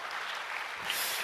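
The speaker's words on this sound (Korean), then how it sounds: "우리 일어나신 분들만 대표로 박수 좀 쳐주세요." A small group of standing church members claps during a Sunday afternoon service, a brief steady patter of applause in a hall, moderately near and fairly soft.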